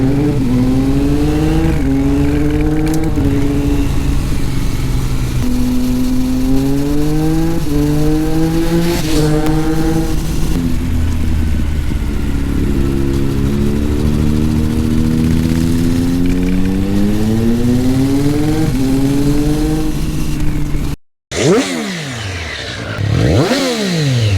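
A Triumph Street Triple with an Arrow Veloce slip-on exhaust being ridden on the road, its engine note loud and close as it climbs through the gears in repeated rising sweeps with short shift breaks, then cuts off abruptly near the end.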